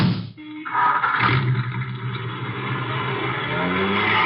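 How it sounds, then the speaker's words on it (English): A car engine turns over, catches and settles into a steady, fairly loud running drone as the vehicle pulls away, with no talk over it. "I'll drive, Chuck."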